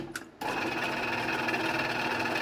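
A Genie Model 209 chain drive garage door opener runs down after a brief click, its motor and chain giving a steady, continuous whirring drone that stays loud and even throughout.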